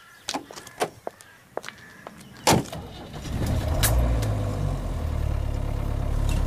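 A car door thuds shut after scattered clunks and rustles, then an engine starts and runs with a steady low rumble as the car moves off, close by, with no talk.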